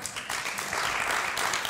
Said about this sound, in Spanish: Gana Darío, aplauso para él